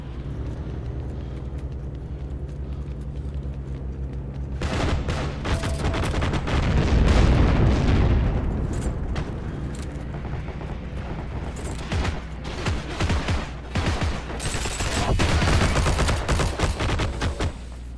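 Gunfire in the World War II shooter Heroes and Generals, a pistol among it, sounding as a dense run of sharp shots and bursts after a quieter opening, loud and continuous with heavy low rumble.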